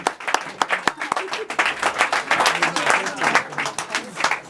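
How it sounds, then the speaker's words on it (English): Audience applause at a spoken word poetry anniversary show, loud uneven clapping with sharp individual claps and some crowd voices mixed in. "And keep clapping till he gets up here."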